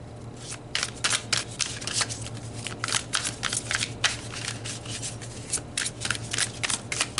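Tarot cards are shuffled up close in quick, crisp bursts of riffling flutter, repeating in an irregular rhythm over a faint low hum.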